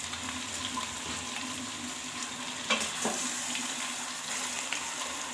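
Chicken sizzles and fries steadily in a pan while biryani is being made, with a bit of stirring, a brief clatter near the middle, and faint watery hiss throughout; no one talks.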